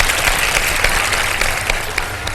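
A studio audience at a live Ramadan iftar television show breaks into dense, steady applause, loud and close, a brief continuous wash of many hands clapping with no voices on top.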